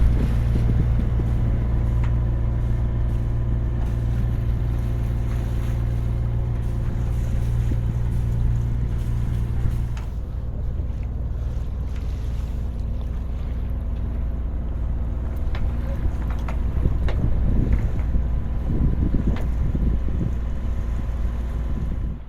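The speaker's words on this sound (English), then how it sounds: "Not really enough to sail, so we're motoring." A sailboat motors under engine power at sea off Scotland's west coast in winter, its steady low engine drone running continuously beneath gusting wind noise and water wash.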